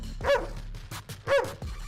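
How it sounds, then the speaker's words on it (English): Dog barking, two loud close barks about a second apart with a short yip between them, heard alone without talk. "The dogs will be barking here tonight, Robert"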